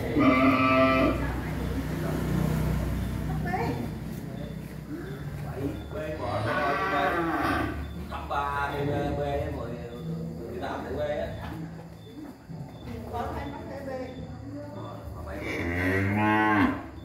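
Cattle at a cattle farm in Bến Tre, Vietnam, low mooing calls recurring through the clip, mixed with bleat-like animal cries and someone talking over the herd throughout.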